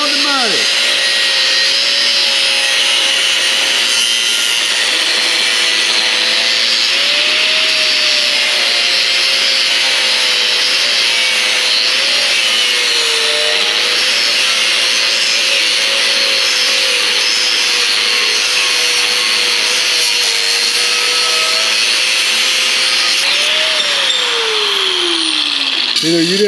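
A power saw whines steadily and loudly, cutting a notch in wood almost nonstop, its pitch wavering slightly as it works before winding down at the end.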